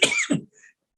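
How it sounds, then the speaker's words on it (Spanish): A single short cough from a person, close and fairly clear, with a quick second expulsion and a faint trailing sound after it. "Perdona la tos."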